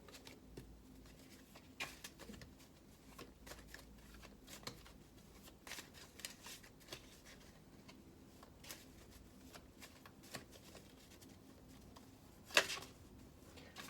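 Tarot cards are shuffled by hand in a quiet room, giving soft, close riffling and patter with scattered light snaps and one sharper flick near the end.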